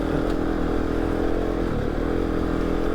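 A motorcycle fitted with a Haro exhaust kit rides past at steady throttle, its loud, dense engine drone filling the scene up close with slight clatter and no voices.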